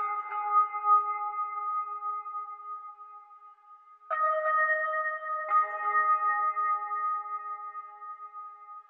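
A keyboard played through chorus, EQ, delay and reverb pedals sustains soft, pure tones, a held chord that shifts to new notes twice, each change blooming with echoing tails, quiet and alone.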